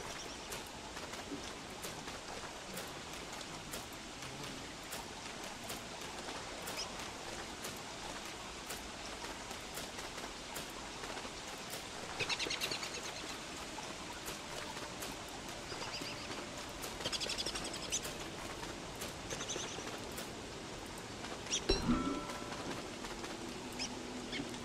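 Rain falls in the survival video game Don't Starve Together, a faint steady patter with soft ticking drops and a few quiet game sounds over it, no one talking.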